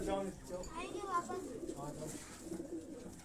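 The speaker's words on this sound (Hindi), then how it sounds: "ये जो सियालकोटी कबूतर आप देख रहे हैं" Sialkoti pigeons coo softly in a loft, low rolling calls repeating under nearby talk and background bustle, fairly faint overall.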